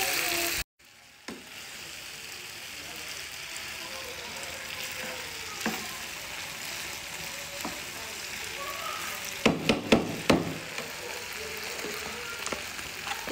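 Jalfrezi macaroni being stirred and mixed in a frying pan, a steady soft sizzle with scraping and clinking spoon strokes against the pan, growing busier near the end.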